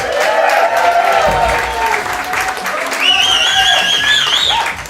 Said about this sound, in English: Put your hands together for the next comedian.